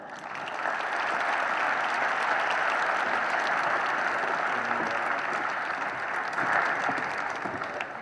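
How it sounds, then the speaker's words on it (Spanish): An audience at a formal speaking event breaks into sustained applause, a dense wash of clapping that holds steady for several seconds before tapering slightly. "Recibamos con un fuerte aplauso al ingeniero Armando Garza Sada"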